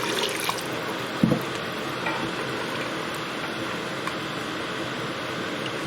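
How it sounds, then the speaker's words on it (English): Water pours into a pan of simmering chicken karachi on the bone, a steady close rushing splash with a brief louder slosh, heard without any talking. "I'm going to add some water."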